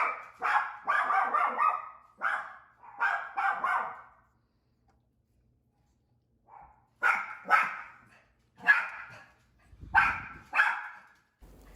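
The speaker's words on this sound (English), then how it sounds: "Sorry about my dogs barking in the background." Several dogs bark in the background of a home kitchen during cookie baking, sharp repeated barks in bursts at the start, a few seconds of quiet, then more spaced barks.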